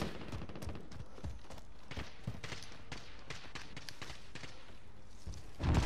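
Rapid gunfire from players shooting in a Call of Duty multiplayer match, a dense stream of overlapping shots and bursts running continuously, swelling louder at the very end.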